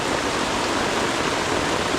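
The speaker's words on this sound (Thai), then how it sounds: "ฝนตกหนักมากนะครับ" Heavy rain pours steadily on a campsite in a tropical rainforest during a storm, a dense, continuous roar of drops with no pauses, close and loud throughout.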